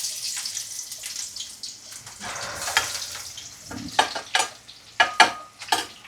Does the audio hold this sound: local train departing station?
no